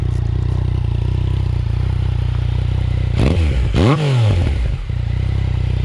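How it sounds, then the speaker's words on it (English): A sport motorcycle engine idles with a steady low rumble through its exhaust, then is revved twice in quick succession, the pitch sweeping up and falling back before settling. "that exhaust sounds pretty good."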